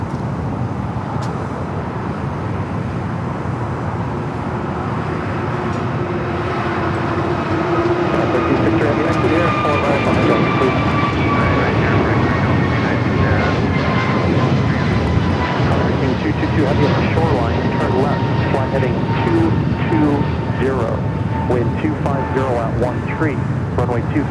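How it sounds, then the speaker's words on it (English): A United Boeing 777 touches down at LAX's south side, arriving from Chicago: a loud, building jet roar with descending engine whine, rising steadily over about twenty seconds, with someone talking throughout. "Sada United at 777 just touching down here on the south side."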